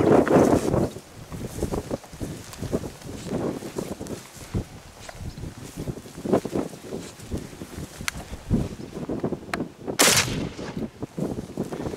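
Rifle shots during a moose hunt in Alaska, several sharp cracks scattered across the stretch amid wind noise, with hunters talking quietly in between.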